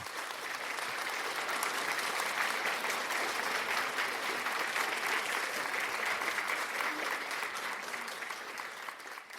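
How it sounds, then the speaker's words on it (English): Steady, dense applause from a large audience, holding evenly throughout and tapering only slightly at the end. "let's give them a round of applause also"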